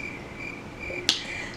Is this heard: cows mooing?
no